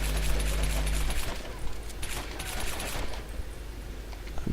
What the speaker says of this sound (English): we're going to come into the building and yet again shoot out all of our bullets